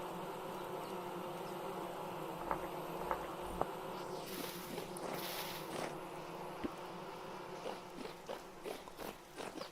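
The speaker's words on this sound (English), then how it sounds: "I haven't seen or heard bees in a while." Bees buzzing in the forest of the video game Vintage Story, a steady insect drone running throughout with a few soft ticks and taps layered over it.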